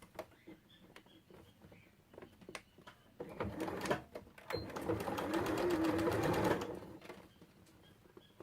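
A sewing machine runs a seam along the lower edge of a central pouch pocket, starting with scattered clicks and handling noise, then a steady close whirring burst of rapid stitching for about three seconds before stopping.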